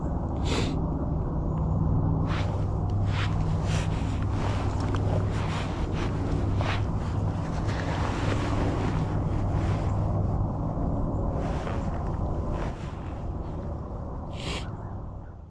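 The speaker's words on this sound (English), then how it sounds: "wind's picking up a little bit" On a cold morning deer hunt on public land, steady wind rushes past the microphone as a broad, continuous roar, with scattered brief rustles and knocks up close and a slight easing toward the end.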